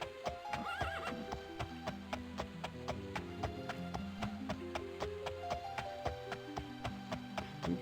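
A horse in the game Daggerfall whinnies near the start, then its hooves keep up a regular, even clip-clop rhythm over a soft musical background.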